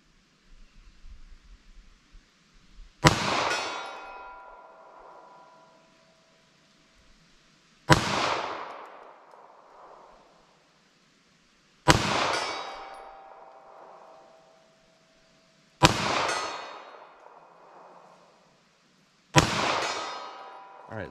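Five single pistol shots fired with Underwood .380 ACP standard-pressure JHP ammunition, each a sharp crack with a ringing decay, spaced several seconds apart outdoors, no talk between them.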